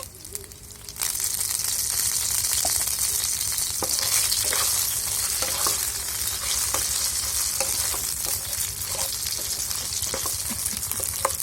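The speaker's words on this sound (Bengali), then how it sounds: "এগুলোকে আমি ভালো করে ভেজে নেব। এর জন্য এর ভেতরে সামান্য পরিমাণ লবণ দিচ্ছি।" Pointed gourd frying in a hot pan with salt, a steady close sizzle that starts abruptly after a quiet second and keeps going evenly, with occasional small pops and stirring knocks.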